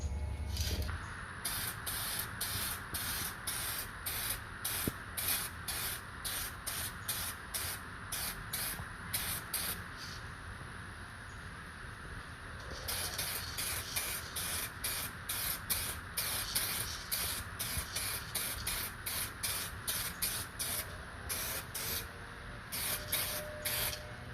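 Rapid bursts of spray-can hissing as clear coat is sprayed onto Mandalorian armor, repeated in quick even pulses with a short pause midway, close and steady with no talking.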